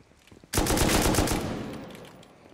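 Burst of rapid sniper gunfire in the survival video game Rust, a sudden loud volley of close, overlapping shots that starts abruptly and tails off into a fading echo.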